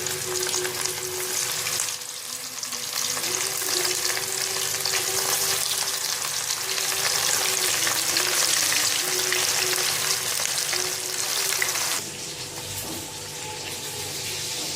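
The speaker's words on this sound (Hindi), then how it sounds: "हल्की आंच पे आपने इसको ना डीप फ्राई करना है" Gola kababs deep frying in oil over low heat give a steady, close sizzle and crackle that runs throughout, dipping slightly near the start and end, with no voices.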